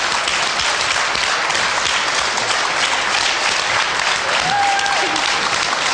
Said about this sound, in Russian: прошу вас сюда под аплодисменты всех присутствующих